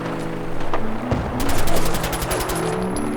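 Rapid gunfire from a firefight in Fallout 4, a dense burst of automatic shots with scattered heavier reports over a steady game backdrop, loud and sustained.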